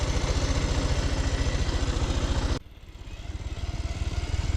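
A motorcycle engine runs close by, its rapid pulsing throb steady, then a sudden drop and quieter stretch before the rumble builds back up.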